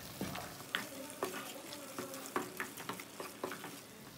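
Beef korma with korma masala stirred in a pot, quiet repeated scraping strokes of a spoon at a steady rhythm over a faint sizzle, close and alone with no talk.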